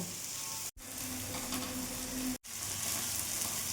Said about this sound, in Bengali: এবার কিছুক্ষণ বেগুনটা আমি ভাজা ভাজা করে নেব।